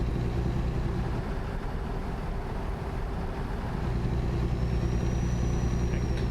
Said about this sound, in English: Main reason for me is to hear the roar of the engine